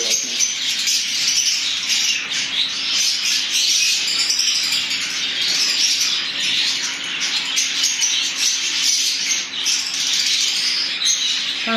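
A chorus of lovebirds squawks and chirps continuously, shrill overlapping calls with occasional wing flutters, close by.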